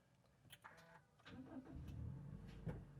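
A 2020 Toyota Hiace Super GL engine turning over and settling to a smooth idle, a short start followed by a low, steady hum heard close up, no voices.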